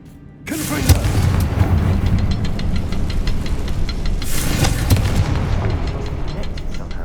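A Confringo blasting spell goes off in Hogwarts Legacy, a sudden loud boom that opens a sustained rumbling roar, followed by a second burst about four seconds later, with no talk over it.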